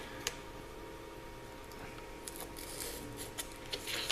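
A blade cuts into the corners of a foam board model, giving faint scratchy slicing and a few small sharp ticks and scrapes over a quiet background.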